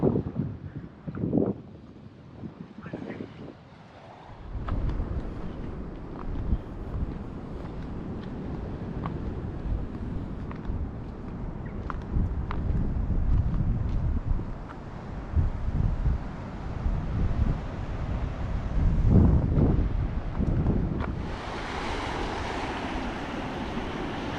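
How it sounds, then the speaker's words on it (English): Cold wind gusts across the microphone at a beach at Two Peoples Bay near Albany, a loud rumbling roar that swells and fades over about twenty-four seconds with a distant wash behind it. "Freezing cold. That wind is coming straight towards us here."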